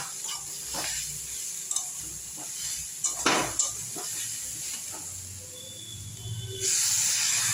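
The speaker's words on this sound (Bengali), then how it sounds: "কষানো হয়ে গিয়েছে, এবার অল্প একটু জল দেবো আমি এর মধ্যে।" A little water goes into a pan of mourala fish and spring onion stalk curry: a few light utensil clinks, then a sudden loud, steady hiss near the end as the water hits the hot pan.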